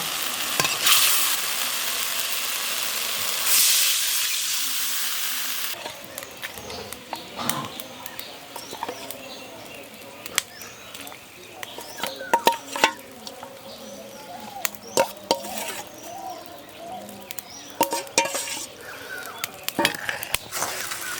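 Fish frying with spices in a pan, a loud hiss of sizzling oil at first, then softer frying under irregular scrapes and clacks of a utensil stirring against the pan.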